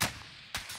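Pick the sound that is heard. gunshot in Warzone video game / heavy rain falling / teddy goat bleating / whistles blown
gunshot in Warzone video game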